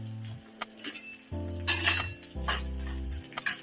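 Edible gum (dink) being stirred and roasted in a pan with a slotted spoon while making dink ladoo, giving intermittent metallic clinks and scrapes of spoon against pan with soft rustling, close and moderately loud, no talking.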